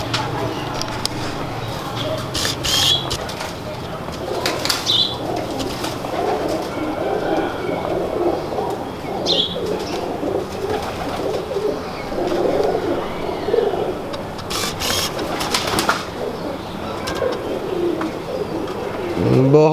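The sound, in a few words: pigeons cooing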